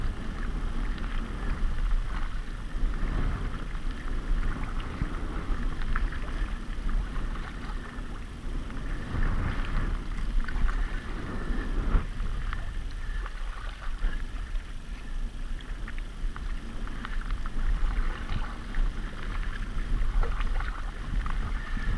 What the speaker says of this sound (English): help me paddle the boat rather than use my arms